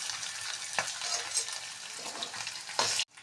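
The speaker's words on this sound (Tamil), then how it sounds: "பட்டை, கிராம்பு, ஏலக்காய், கசகசா, பிரிஞ்சி இலை எல்லாத்தையும் வதக்கிக்கணும்" Whole spices (cinnamon, cloves, cardamom, poppy seeds and bay leaf) fry in a pan for a vegetable kurma masala, with a soft, steady sizzle and a few stirring scrapes before it cuts off abruptly.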